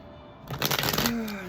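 Brief riffle of Mystic Mondays tarot cards being shuffled by hand, a quick burst of crisp papery flutters lasting under a second, close and fairly soft in a quiet room.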